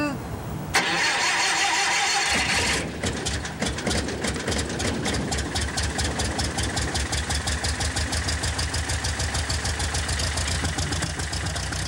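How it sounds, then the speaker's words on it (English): An aircraft motor cranks over and catches, settling into a loud, steady rhythmic engine drone with a pulsing beat that continues to the end. "Should I start the motor?"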